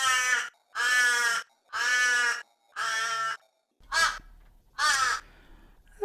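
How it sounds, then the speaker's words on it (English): Crows cawing in a series of six harsh, loud calls, evenly spaced with short gaps, the last two shorter and sharper, with no talk over them. "today we are talking about crows"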